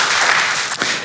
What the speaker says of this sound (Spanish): un aplauso a CDO Latam, muy bien